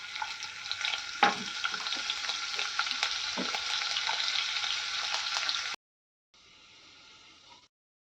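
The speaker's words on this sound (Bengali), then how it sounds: "প্রথমে কড়াতে আমি কিছু শুকনো লঙ্কাকে ছিঁড়ে দিয়ে দেব এরপরে দিয়ে দিচ্ছি রসুন কুচি" Torn dried chillies and chopped garlic frying in a wok for chilli chicken, a loud, close, continuous sizzle with a few stirring clatters; it cuts off abruptly, then a quieter sizzle resumes briefly.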